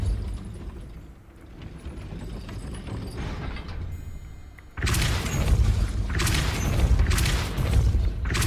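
A Depulso force spell is cast in the video game Hogwarts Legacy: after a stretch of low, rumbling ambience, a sudden loud blast erupts and carries on in surging, crashing bursts.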